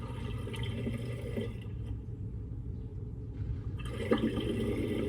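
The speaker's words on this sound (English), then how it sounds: "sorry about my water running there" Water runs steadily from a kitchen tap, a continuous broadband rush with slight shifts in flow, close and moderately loud with no one talking over it.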